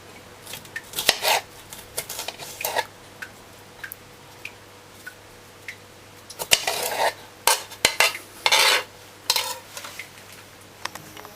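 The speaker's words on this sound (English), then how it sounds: "The best way to slice sweet pepper is to put this on the surface and just slice like that." A knife slices sweet pepper on a cutting board in short, sharp bursts of knocks and cuts, clustered into quick runs with pauses between, close and crisp with no talking.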